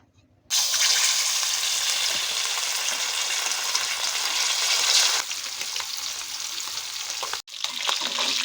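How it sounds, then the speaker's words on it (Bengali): Pieces of rohu fish fry in hot oil for a Bengali doi rui curry, a loud, dense sizzle that starts abruptly, eases slightly partway through and continues with no talk. "তেলটা খুব ভালো করে গরম করতে হবে অবশ্যই। এবার আমরা এর মধ্যে দিয়ে দেব মাছগুলোকে"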